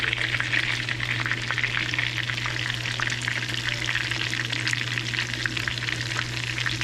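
A panko-crusted chicken cutlet fries slowly in oil in a pan, giving a continuous, even crackling sizzle with fine popping, close and unbroken, with no voices.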